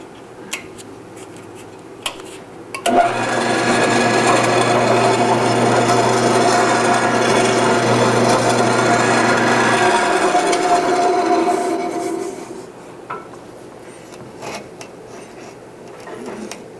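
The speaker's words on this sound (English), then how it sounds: "we'll go ahead and drill these holes out" Power drill boring holes through wood for a DIY candle stand, one continuous whining grind of about nine seconds that fades out, preceded and followed by small knocks and handling noises.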